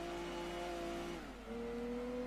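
Venturi Atlantique 600 GT race car in Gran Turismo 2, its engine holding a steady drone with a brief dip in pitch as it shifts gear, then settling at a new tone.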